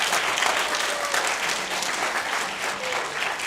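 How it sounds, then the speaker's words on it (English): Sustained audience applause at an evening school pitch event, steady broadband clapping from a crowd throughout with no clear voices on top. "So big round of applause for them."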